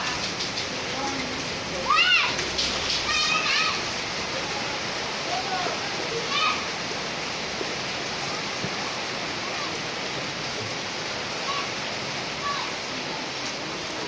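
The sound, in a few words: rain falling while children play outside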